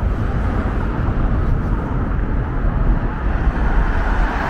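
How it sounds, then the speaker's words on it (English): Deep, steady rumble of planes passing over the runway above the Manchester Airport runway tunnels, a dense, low, continuous roar filling the enclosed space with no clear breaks. "You can actually hear the rumble of these planes going over the top of that runway."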